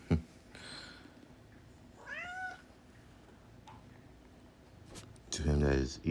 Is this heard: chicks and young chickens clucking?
no